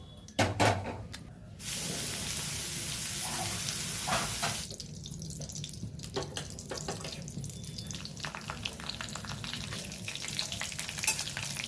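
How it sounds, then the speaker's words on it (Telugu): Slices of bitter gourd and onion fry in a pan with a loud, steady hiss. A few knocks and scrapes come early, then a long, even burst of sizzle, followed by crackling frying mixed with stirring clatter. No voices are heard. "కాకరకాయ ఫ్రై చేసేస్తాను"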